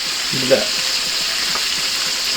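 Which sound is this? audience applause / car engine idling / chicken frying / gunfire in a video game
chicken frying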